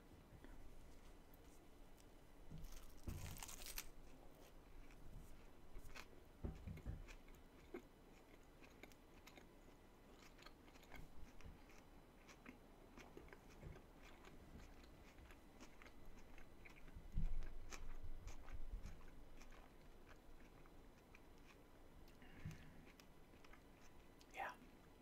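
Soft biting and chewing of a triangle-cut pepperoni sandwich in a whispered eating session, close and quiet, with scattered crunches and wet mouth sounds under low whispering.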